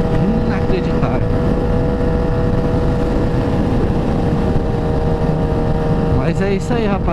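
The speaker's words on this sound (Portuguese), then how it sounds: "Inacreditável a força dessa moto." A Suzuki GSX-S1000 sport motorcycle engine roars steadily at high revs while accelerating, loud and close, with a constant droning hum throughout.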